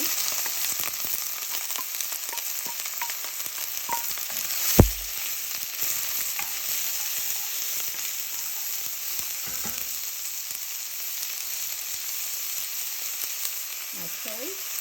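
Onions, ginger and garlic fry in cooking oil for a chicken curry, a steady close hissing sizzle throughout with one sharp knock partway and a few faint stirring scrapes.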